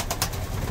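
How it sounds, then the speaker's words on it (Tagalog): Racing pigeons coo in a loft, soft repeated throaty pulses heard up close for a brief moment with no talking. "ayan mga ibon natin"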